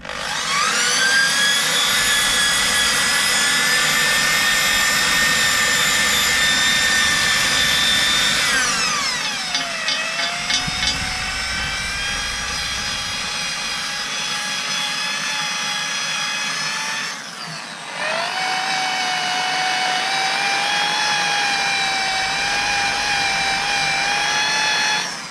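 A power wire brush scrubbing the metal of a BMW X5 E53 wheel rim gives a loud, sustained high whine that dips in pitch twice as the brush bears down harder, then recovers, with no talking.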